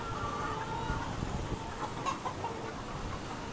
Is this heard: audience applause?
no